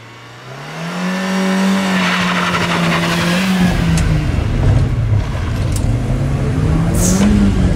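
A car engine revs hard and steadily climbs in pitch while driving, with tire squeal and skidding mixed in, loud and close throughout with no talking.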